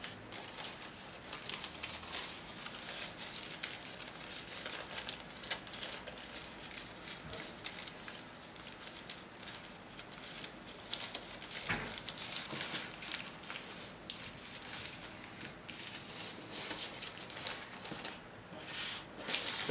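Paper being folded into an origami beetle gives a soft, continuous rustling and crinkling, close and fairly quiet, with occasional sharper creases.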